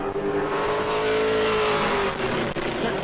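A Pro Late Model race car at speed during qualifying at New Smyrna, its engine a loud sustained roar with a clear rising tone, close and continuous for about three seconds.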